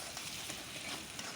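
Ground spice powders with chilli, cumin and coriander stirred in hot oil in a frying pan, a steady close sizzle with soft scraping throughout.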